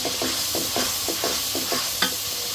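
Spice masala for a river aair fish curry sizzles in a pan while being stir-fried, a continuous hiss broken by regular spatula strokes about every half second.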